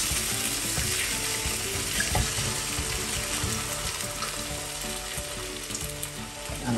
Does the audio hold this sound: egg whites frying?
yes